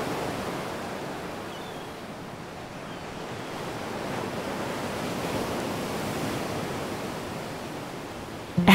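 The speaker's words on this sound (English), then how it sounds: "the waves crashing on the shore and the seagulls cry" Ocean waves wash steadily onto the shore at Big Sur, California, with a broad continuous surf roar and a light touch of wind. There is no talking.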